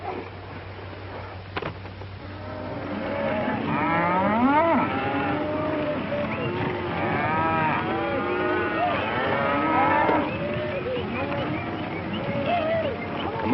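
Cattle on a drive in a 1937 Western, many cows mooing in long, overlapping calls that rise and fall, some near and loud, others farther off, over a steady rumble of herd noise and hooves.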